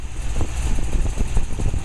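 A 1969 Corvette V8 with new Profiler heads and intake idles around 800 rpm, giving a loud, close, lumpy rumble with a steady pulsing beat.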